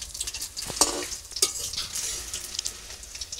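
Shapla stem chops fry in hot oil in a kadai in a village kitchen, a steady close crackle and sizzle with sharp pops and occasional stirring clatter throughout.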